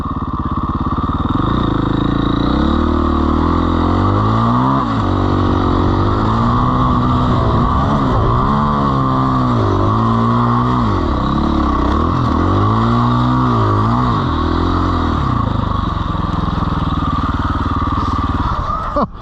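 Dirt bikes ride through the sand dunes at Beachport, their engines close, loud and constant, rising and falling as they rev hard and shift through the gears.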